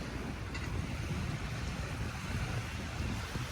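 Waves wash continuously onto Dolomite Beach on Manila Bay under a slight wind, a steady broad rush with gusty wind noise across the microphone and no voices.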